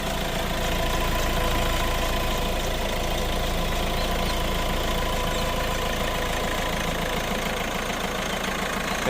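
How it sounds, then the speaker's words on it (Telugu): Close, steady idle of a Hyundai Creta SX(O) diesel engine, a continuous low clattering rumble that holds even throughout with no other sounds. "సో ఇంజిన్ సౌండ్ అయితే గమనించవచ్చండి మీరు."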